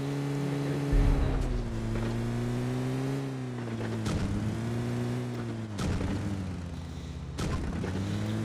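Large vehicle driving in PUBG Mobile Lite, a steady loud engine drone with shifting pitch as it accelerates, broken by several sharp bangs or impacts, with no voice over it.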